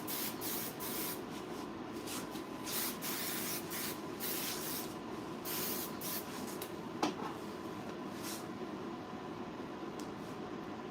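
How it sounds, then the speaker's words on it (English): Hairspray hisses onto a client's hair in a series of short, quiet spray bursts separated by brief pauses, with faint handling noise and no speech. "We're just using hairspray to lay her hair down."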